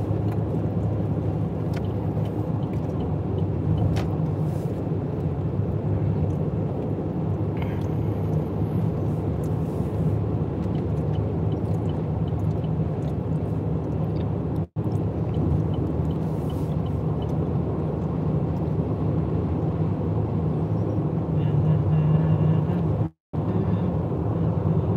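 Inside a car cruising down the road, a steady, low rumbling drone of engine and tyres continues unbroken, with no one talking.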